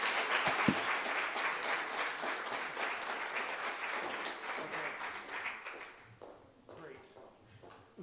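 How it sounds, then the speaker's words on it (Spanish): Audience applause in a university lecture hall, dense and steady clapping from a crowd that gradually thins and fades toward the end. "démosle un aplauso y démosle las gracias por venirnos a compartir un poquito de su"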